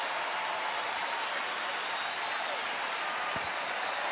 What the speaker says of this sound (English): getting a standing ovation from this sellout crowd at Rangers Ballpark in Arlington